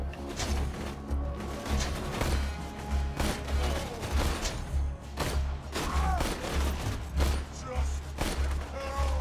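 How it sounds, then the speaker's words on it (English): Sniper rifle fire in the shooter game Borderlands comes as repeated sharp booming shots at irregular intervals, with excited voices talking over them. "It has been so long since I used a sniper rifle"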